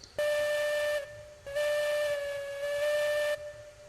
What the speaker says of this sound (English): And now we've got a whistle.